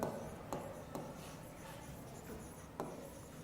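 A pen writing a date by hand on paper during an English writing lesson, giving a soft continuous scratching with a few sharper taps as strokes start, close and fairly quiet.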